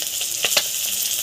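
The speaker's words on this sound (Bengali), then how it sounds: "মাছ ভাজা হচ্ছে" Fish frying in a home kitchen pan, a loud, close, continuous sizzle with a couple of brief spattering crackles.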